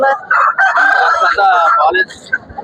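A rooster at the Gokavaram country-chicken market in East Godavari crows once loudly and close, a long strained call, followed by a brief cluck or two.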